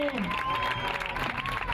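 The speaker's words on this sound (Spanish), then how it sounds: "Un aplauso." Crowd applause for two champions receiving trophies at a triathlon awards event, dense clapping with cheering and voices over it, close and sustained.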